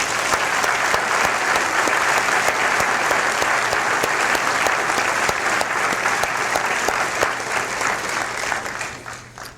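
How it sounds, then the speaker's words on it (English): A large dental school commencement crowd gives sustained applause, thick continuous clapping that holds loud for about nine seconds before tapering off. "I ask that you join me in applause to acknowledge their hard work and their many accomplishments."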